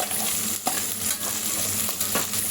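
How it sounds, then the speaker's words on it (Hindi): Onions being lightly browned in a pan for a savory pulao give a steady, close sizzle, broken by a few soft stirring scrapes and clicks. "अभी हम प्याज को हल्का सा ब्राउन शेप में इसको भूनेंगे।"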